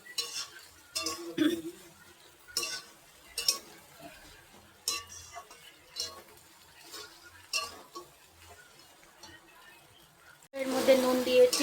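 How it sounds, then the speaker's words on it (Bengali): Pasta being stirred in a pan in a home kitchen, giving repeated scraping and clinking strokes at close range, with a louder sizzling burst near the end. "ভালো করে নেড়ে দিই পাস্তাটা দিয়ে।"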